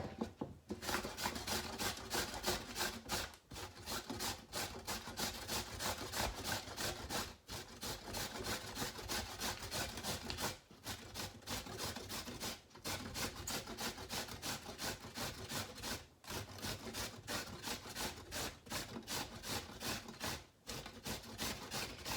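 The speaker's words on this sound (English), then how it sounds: "And grate." Zucchini rubbed by hand against a manual grater, a steady close-up scraping rasp that runs almost continuously, broken only by a few brief pauses between strokes.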